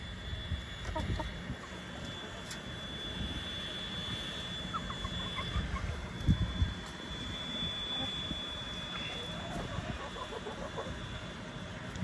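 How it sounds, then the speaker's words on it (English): Several backyard red hens peck and cluck softly while eating apples tossed on dirt, with scattered short clucks and rustling over steady background hum and a brief louder knock midway. "Bonk, you just jump into my other leg, you silly chicken."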